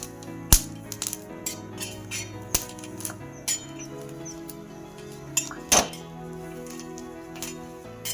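Red chillies dry roasted in a pan without oil for a black fish curry, with sharp metallic clinks and scrapes of a spatula against the pan at irregular intervals over a low steady background, no talking.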